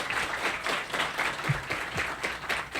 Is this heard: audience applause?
yes